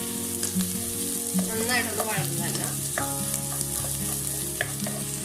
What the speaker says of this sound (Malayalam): ഇതിലേക്ക് നമുക്ക് പച്ചമുളക് ഇട്ട് കൊടുക്കാം, ഇഞ്ചി ഇട്ട് കൊടുക്കാം, വെളുത്തുള്ളി ഇട്ട് കൊടുക്കാം. നന്നായിട്ടൊന്ന് വഴറ്റാം.